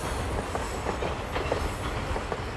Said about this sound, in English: Subway trains galore.